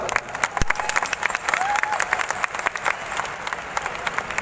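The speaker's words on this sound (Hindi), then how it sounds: "मैं चाहता हूँ जोरदार तालियां MD साहब के लिए।" An audience at a wellness company meeting in Delhi applauds with steady, dense clapping throughout, mixed with a few brief voices in the crowd.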